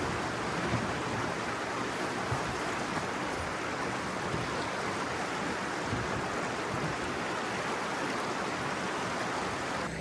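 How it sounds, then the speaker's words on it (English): Steady broadband rush of a river running right beside a campsite in the Ozarks, continuous and fairly loud for the whole stretch with no voices. "We're going to get to sleep listening to this sound of the running water tonight."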